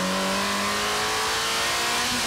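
Ferrari 348 and Toyota MR2 race cars accelerating hard in a 1991 supercar drag battle, a steady rising engine drone climbing through the gears, loud and continuous with no talk.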